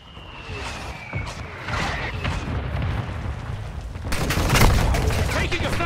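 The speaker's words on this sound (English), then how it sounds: "Mortar strike inbound now." Heavy mortar strike explosions in a Call of Duty-style video game rumble and crack in a dense, building barrage, loudest toward the end, with radio-style voice chatter underneath.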